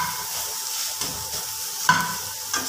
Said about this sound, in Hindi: प्याज ये भी साथ में फ्राई हो जाएगा।